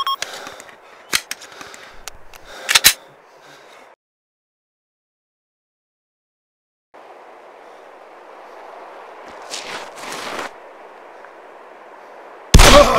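Gunfire in the military shooter Arma 2: a few sharp cracking shots over faint background noise, a stretch of silence, then distant hissing ambience with more bursts and a loud final shot.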